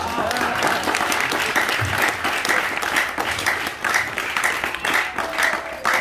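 A crowd applauds loudly and continuously at a yoga teacher training certificate ceremony, dense clapping sustained throughout.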